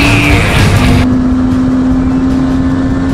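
A Kawasaki 500SS two-stroke motorcycle drives along a riverside road, its loud, close engine revving high and then settling into a steady drone with wind rush as the bike overtakes.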